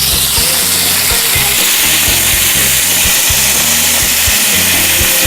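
Fish fillet frying in a hot oiled pan, a loud steady sizzle filling the whole stretch with small crackles, no voices over it.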